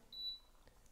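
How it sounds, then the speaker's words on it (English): An electric space heater plugged into the AC output of a Bluetti B500K portable power station gives a single short, high electronic beep as it connects, fairly faint and alone in a quiet room. "Space heater beeped, it's connected."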